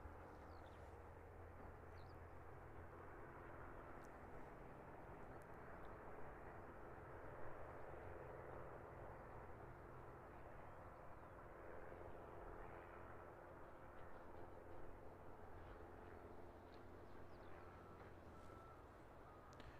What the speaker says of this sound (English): Piper coming over, I believe, from the Aero Club. Taken off from the grass strip runway.